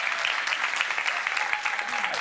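A church congregation applauds together, a dense and steady clapping with a voice calling out briefly over it.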